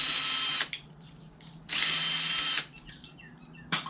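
A power screwdriver whirs in two long bursts with short ratcheting clicks and handling noise between them while screws are backed out of dome security cameras during scrapping.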